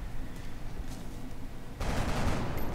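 Gunfire in the video game XCOM: Long War starts with a quiet rattle of distant shots, then a loud, dense burst of rapid fire takes over for the final second.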